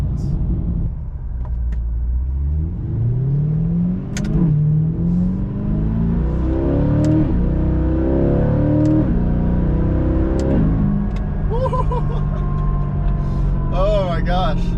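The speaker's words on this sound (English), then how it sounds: "driving the C8 Corvette after the Halltech Cold Air Intake install" A C8 Corvette fitted with a Halltech Hornet cold air intake accelerating with its exhaust valves open, loud and close, its engine note rising repeatedly through several upshifts in a continuous deep roar.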